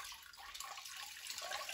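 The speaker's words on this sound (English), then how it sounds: "the idea is to rinse them now until the water runs clear" Running water splashes and trickles softly as dyed cashmere is rinsed in a sink, a faint, close, continuous wash of liquid with small gurgles, no voices.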